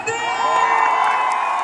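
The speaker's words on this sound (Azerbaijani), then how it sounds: "UNEK məzunları ən gür alqışlarla qarşılayın" A graduation-day crowd at UNEC cheers and whoops loudly, a sustained roar of many voices with tonal music underneath.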